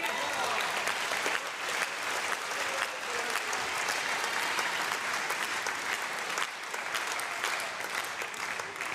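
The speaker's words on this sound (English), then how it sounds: "Crowd clapping, the Polish bench on their feet." Crowd applauding throughout a table tennis match in the ETTU Champions League Final Four between KTS Enea Siarkopol Tarnobrzeg and Metz TT, a steady dense clapping from a large arena audience, loud and continuous with no pauses.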